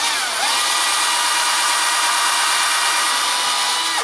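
A power drill bores a hole into the end of a half-inch wooden dowel, giving a steady, loud, close grinding whine that runs unbroken for several seconds and then stops.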